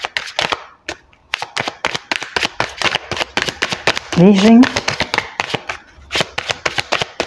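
A tarot card deck is shuffled in quick bursts of crisp, papery clicks and riffles, close up, with a person talking between and over the shuffles.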